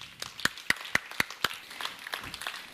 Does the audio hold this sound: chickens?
no